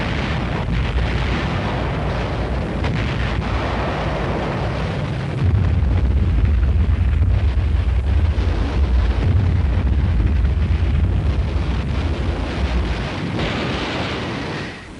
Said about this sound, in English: Once its rockets were fired